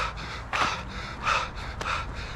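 A person imitates shallow, chest-heavy breathing like a runner's, with three quick, sharp gasping breaths spaced about half a second apart. The breaths are close and moderately loud, with no talking over them.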